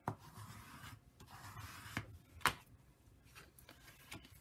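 A bone folder burnishing score lines on a folded paper twist pop card: soft, close rubbing strokes in short bursts, with one sharper tick partway through. No voices.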